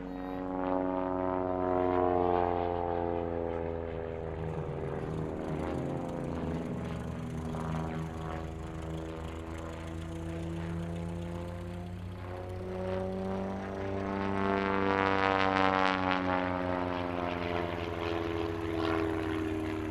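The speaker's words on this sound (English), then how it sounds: "Its Lycoming IO360 engine produces 180 horsepower" A Pitts S1S aerobatic biplane's 180-horsepower Lycoming IO-360 engine drones steadily at an airshow, its pitch sliding up and down as it passes, loud and continuous with no voices.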